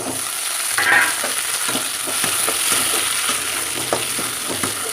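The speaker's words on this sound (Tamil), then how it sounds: "இப்போ நம்ம தக்காளி போட்டு நல்லா ஃப்ரை பண்ணிக்கணும்" Tomatoes frying with browned onions in a pan for fish curry: a constant close sizzle broken by repeated scraping strokes of a spoon stirring, no speech.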